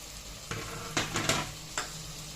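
Mint is stirred into a sizzling onion-tomato paste in a pan for chicken biryani, with a soft steady fry and several scraping spoon strokes against the pot.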